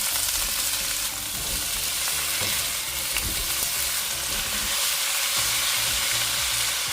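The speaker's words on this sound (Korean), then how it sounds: "흑설탕 2큰술을 넣고 중불에서 2분 더 볶아주세요." Blanched lotus root stir-frying in oil with brown sugar over medium heat, a steady close hiss of sizzling with scattered scraping clicks from stirring, continuous throughout.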